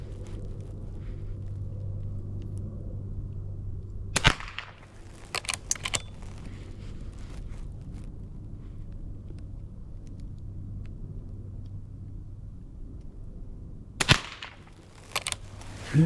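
Two sharp reports from a Marlin 39A rifle, about ten seconds apart, each followed by quick faint clicks of the action, over a steady low outdoor rumble.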